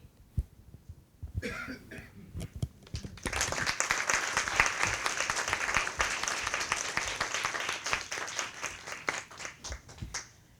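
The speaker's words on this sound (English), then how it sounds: "Can we give another round of applause?" After a few scattered coughs and quiet rustles, applause from a conference plenary audience swells up and continues steadily, fairly soft and distant-sounding, with many hands clapping in a dense patter.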